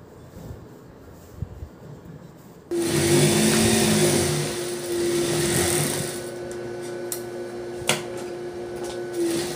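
A sewing machine stitches a belt onto a Patiala pant, starting after a quiet opening with a loud, steady motor whir that holds for several seconds, eases slightly, and ends with a few faint clicks.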